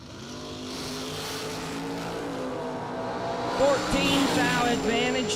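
Chevy II and Camaro drag race cars on the strip, engines droning and then rising as they accelerate and pass, with an announcer's voice over the track.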